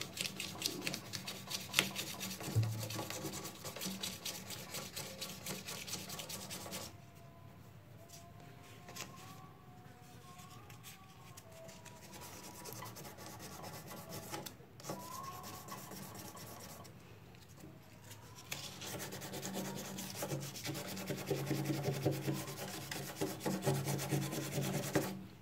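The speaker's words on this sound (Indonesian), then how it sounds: "Ini perlu diamplas juga nih." Sandpaper rubbing against a leaky metal motorcycle fuel tank, a continuous close rasping scrape with a quieter stretch in the middle before the steady sanding strokes resume.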